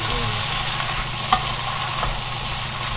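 Fish cake stir-frying in a pan with soy sauce, a steady, loud close sizzle running throughout, with one brief scrape of a utensil partway through.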